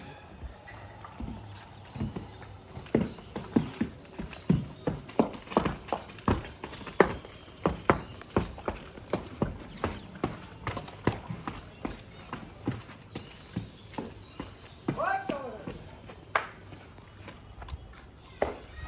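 A horse walks on hard ground, its hooves clip-clopping in a steady, fairly close rhythm with occasional shuffles, and a person speaks briefly in the background.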